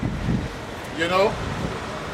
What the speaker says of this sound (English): Obviously, it's a bit windy.